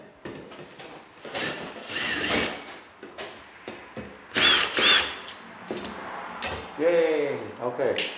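A power drill backs screws out of a cover on a house being renovated, with short whirring bursts and rattling handling noises, and a voice speaking between the bursts.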